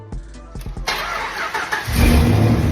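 Car engine with new headers, 2-inch primaries, fresh exhaust and a welded wastegate cranks in a few quick bursts, catches and roars into a loud, rough idle, close and alone without talk.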